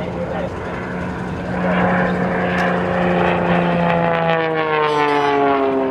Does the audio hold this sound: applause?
no